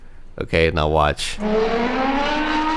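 A car engine sound effect dubbed over computer-generated footage of slow-moving cars plays as a steady, slightly rising droning hum after a brief spoken line.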